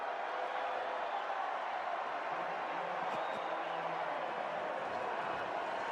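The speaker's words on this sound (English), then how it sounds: "Crowd likes it. Listen to the crowd." Stadium crowd at a CU Buffs football spring game, a steady, distant wash of crowd noise and cheering with no distinct swells, under faint talk.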